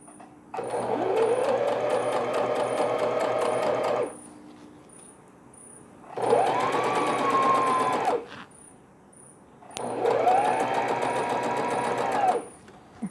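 Sewing machine stitching a zipper onto a washable newborn baby carrynest, three loud runs of steady rapid stitching of about two to four seconds each, separated by short pauses.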